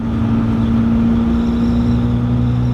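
A BMW E36 engine running at low throttle gives a steady, even drone with a constant low hum and no sputtering or revving, close and fairly loud throughout.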